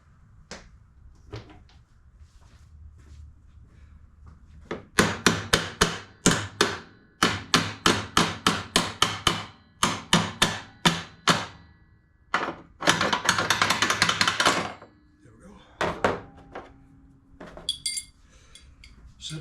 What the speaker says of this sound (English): Grab a hammer and give it a little tap.